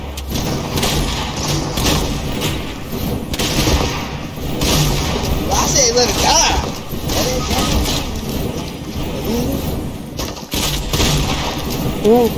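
Video game gunfire in rapid bursts and booms against a busy, loud mix, with game sounds and overlapping chatter from players throughout.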